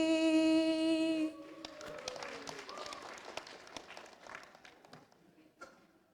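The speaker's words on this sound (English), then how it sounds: "A big round of applause for her" An audience at a celebration breaks into scattered, thinning applause once a sung anthem's last held note ends, the claps sparse and moderately distant, with a few louder individual claps near the end.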